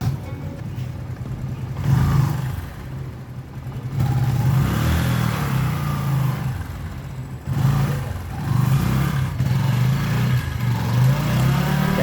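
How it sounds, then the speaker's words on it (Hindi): A motorcycle revs hard through burnouts after an engine oil refill and a new clutch, its engine surging loudly in repeated bursts with short dips between them, and no voices. "इंजन ऑयल रिफिल करने के बाद क्लच की टेस्टिंग भी कर लेते हैं कुछ बर्नआउट्स"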